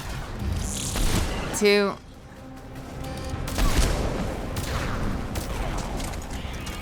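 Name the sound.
gunshots in the video game Mass Effect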